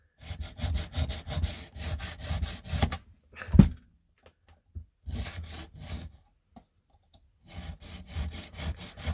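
Rough diamond cutter file rubbing on a Steinberger XT25 guitar part in rapid back-and-forth rasping strokes, close up, with a sharp knock and pause midway before the filing resumes.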